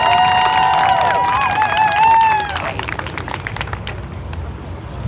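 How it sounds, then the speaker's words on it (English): Audience applause and cheering from a crowd at a community gathering, a dense wash of clapping that swells loudly for the first couple of seconds, then eases to a steadier, softer patter mixed with crowd noise. "Let's give a big round of applause"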